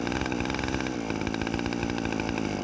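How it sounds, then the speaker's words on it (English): A small chainsaw that had been locked up runs after repair, its engine roaring loud and steady at close range for the whole stretch, with no talking over it. "But for a chainsaw that was just locked up, it does seem like it's running good."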